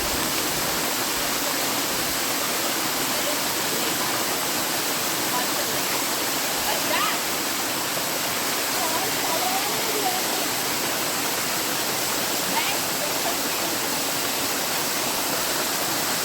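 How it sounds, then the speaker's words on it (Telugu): A waterfall pours down from the wooded hills at a quarry picnic spot, making a loud, steady, unbroken roar of rushing water close by for the whole stretch. "ఈ జలపాతము పైనుండి కొండ కొనలలో నుంచి చెట్లలో నుండి వస్తుంది"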